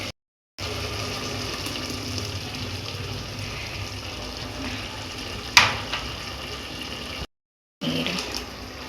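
Water pours steadily into a cooking pot of simmering masala curry, a continuous close gushing splash that briefly cuts out, followed by a sharp clank and a final short pour.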